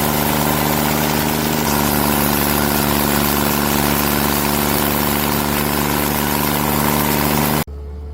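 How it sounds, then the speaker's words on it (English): A large stump grinder machine at work on a tree stump runs with a loud, continuous engine drone close by, holding steady before cutting off abruptly near the end. "The grinder spins at high speed, biting into the stump with sparks and dust flying."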